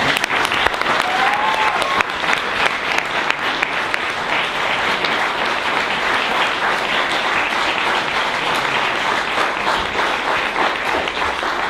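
Dense, steady applause from an audience at the closing session of a photography barcamp in Pforzheim, filling the whole stretch with continuous clapping and no pauses.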